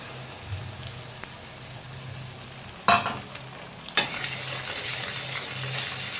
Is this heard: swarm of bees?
no